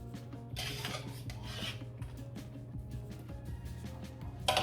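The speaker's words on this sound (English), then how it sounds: "I'm gonna add my pasta to my sauce." Cooked pasta stirred into a creamy pancetta carbonara sauce in a pan, giving a steady wet scraping and rasping of a utensil against the pan for several seconds, with a brief louder clatter at the end.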